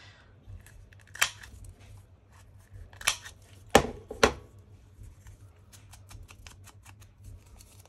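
Decorative-edge scissors snip through gel-printed and painted paper in a few sharp, close cuts at irregular intervals, with quieter rustling in between and a soft low hum underneath.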